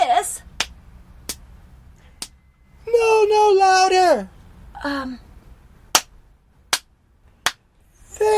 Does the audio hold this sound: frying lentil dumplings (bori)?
no